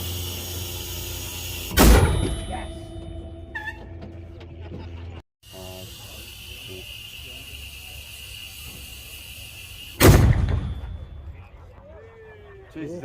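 Two huge, sharp blasts from a tank's main gun firing outdoors in Canada, each followed by a long rumbling decay, with steady engine drone and faint talk between the shots.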